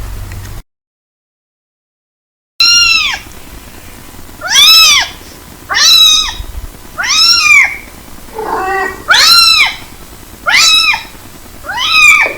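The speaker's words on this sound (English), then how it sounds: "Cats, scientifically known as Felis catus, are small, domesticated mammals belonging to the family Felidae." A domestic cat meows about eight times in a steady series of clear, loud, drawn-out calls, one rougher call near the middle. A low hum runs underneath and no one speaks.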